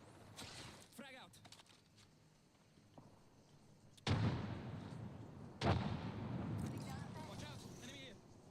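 In the Apex Legends video game, a frag grenade goes off with two sharp, loud blasts a moment apart, each trailing into a rumbling decay, after quieter gameplay sounds and brief in-game voice lines.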